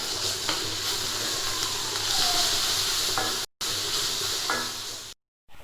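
Onions fry in a pan with ginger garlic paste for a quail dish, giving a steady close sizzle and hiss with faint stirring scrapes and two brief cuts to silence.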